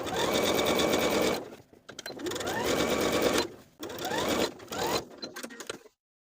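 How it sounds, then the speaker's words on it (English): A sewing machine stitches a sleeve casing in several steady bursts of rapid stitching, pausing briefly between runs, close and fairly loud, then stops. "take it back to the sewing machine to sew close to our finishing stitches all the way around"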